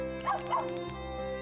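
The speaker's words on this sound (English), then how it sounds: "A little cream-colored dog." A small cream-colored dog in a video game gives two quick yips close by, then a soft whimper, over a steady low background tone.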